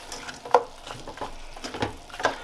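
Broccoli frying in a pan, a soft sizzle broken by a few scraping stirs and clinks at irregular intervals, close and moderately quiet.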